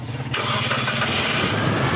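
After the bearing nut is tightened, a motorcycle engine cranks and catches almost immediately, then settles into a steady, loud, close idle with a smooth, even rumble.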